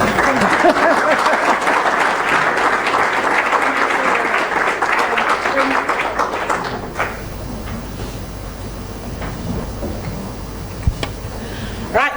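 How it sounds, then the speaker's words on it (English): Audience applause follows a keynote presentation at an internet exchange conference, dense steady clapping for several seconds that then drops abruptly to a few scattered claps and light room noise. "One more round of applause."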